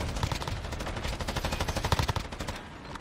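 Rapid automatic fire from a new weapon in the video game Modern Warfare, a steady fast stream of close, loud shots lasting a few seconds before tapering off.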